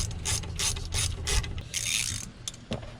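A hand ratchet turns on intake manifold bolts of a Land Rover Discovery 2, with quick runs of close, crisp clicking and short pauses between strokes.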